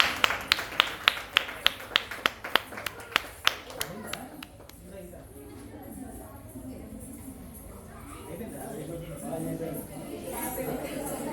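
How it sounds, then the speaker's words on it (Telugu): Claps at a dance school gathering, a quick run of sharp separate hand claps fading out after a few seconds, followed by voices talking. "Claps claps."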